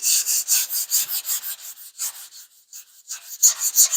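Hand sanding of 2K primer on a panel during blocking, a steady scratchy rubbing in quick back-and-forth strokes, close and fairly loud with a brief lighter pause midway.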